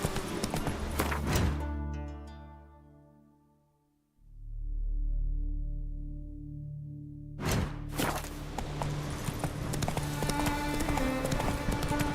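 Roach, the horse in The Witcher 3: Wild Hunt, runs with loud, rapid hoofbeats that fade into a brief lull. The quick, close clip-clop then bursts back in alongside game sounds.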